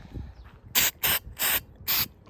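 A texture spray paint can fires four short, loud hissing bursts in an even rhythm, close up, with brief quiet gaps between them and no talking.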